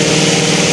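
A clothes dryer runs with a steady, close mechanical hum and drone, even and unbroken throughout, with no voices.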